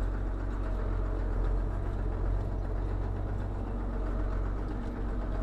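A forage harvester chopping corn in a field, its engine a steady heavy drone with a constant low rumble and even mechanical whir.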